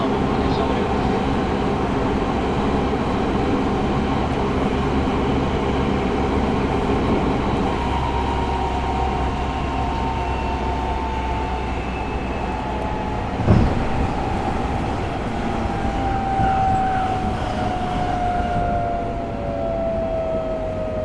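A Tokyo Metro 05 series local train with Mitsubishi IGBT inverter drives rumble continuously along the track, motor tones gliding up and down over steady wheel noise, with one sharp knock midway.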